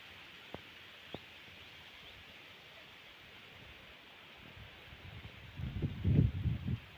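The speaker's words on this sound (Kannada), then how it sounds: "ಗಾಳಿ ಅಂತೂ ಸಿಕ್ಕಾಪಟ್ಟೆ ಇದೆ ಇವತ್ತು." Strong wind gusting outdoors in a home garden with chilli and tomato plants, a steady broad whoosh of moving air and rustling foliage that swells louder near the end, with two faint clicks early on.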